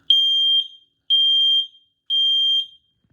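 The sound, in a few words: Nest Protect smoke alarm sounding during test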